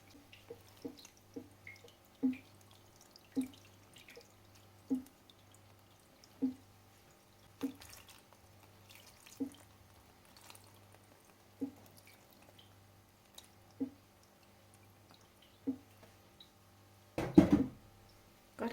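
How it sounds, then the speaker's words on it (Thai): Water dripping from bean sprouts in a basket after watering, slow regular drops falling one by one at near-even intervals over a faint low hum, with a brief louder splash near the end. "ราดน้ำลงไปให้ทั่วเลยนะคะ"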